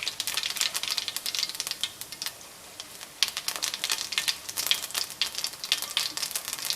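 Mustard seeds splutter in hot oil while Gujarati bottle-gourd muthiya are prepared, a dense, continuous crackle of quick close pops with no talking.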